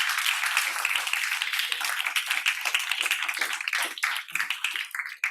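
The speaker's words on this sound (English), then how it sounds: "let's give a round of applause" An audience gives a round of applause at a school presentation event, dense steady clapping from many hands that thins out toward the end.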